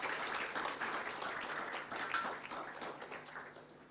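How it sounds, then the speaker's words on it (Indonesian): A church congregation claps together, a fairly faint, continuous patter of applause with no clear talking over it. "Kasih tepuk tangan yang terbaik buat Tuhan kita."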